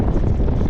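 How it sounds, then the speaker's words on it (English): Gusty wind buffets the microphone in a dense, loud rumble for under a second during a parkrun across the Severn Bridge, with no voices. "Bit windier on the way back"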